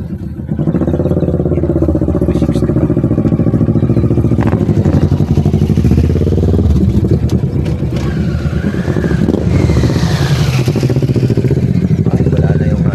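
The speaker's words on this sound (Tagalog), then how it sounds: "Mga naka-big bike, men." Big bike motorcycles pass near the Monte Maria shrine in Batangas, a loud continuous engine roar with rising and falling revs from passing machines, with faint voices in the background.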